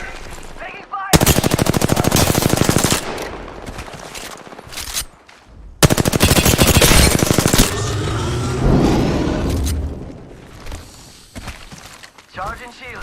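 Loud bursts of rapid automatic gunfire from a video game shootout, with two long sustained volleys separated by short pauses and scattered single shots, a voice calling out between the bursts.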